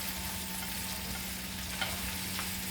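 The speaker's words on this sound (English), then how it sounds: "I'm gonna saute this a little bit." Green onions sauté in a pan while cooking Jamaican brown stew snapper, giving a steady, moderately quiet sizzle with a few faint scrapes of stirring.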